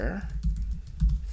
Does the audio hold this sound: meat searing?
no